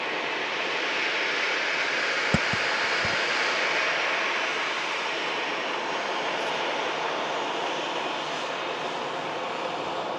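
A Boeing 757 jet at Manchester Airport, a loud steady broadband engine roar that holds for about ten seconds, with a couple of brief thumps near the start.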